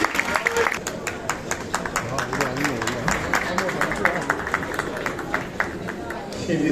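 An audience claps steadily through a film gala for Prestij Meselesi, a dense patter of many hands that continues under a voice and crowd murmur.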